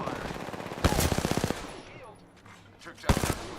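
Rapid automatic gunfire from a shooter game on an Asus ROG Ally handheld crackles in two quick bursts, with a quieter stretch between them.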